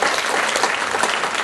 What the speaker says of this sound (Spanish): Ahora un aplauso al Señor.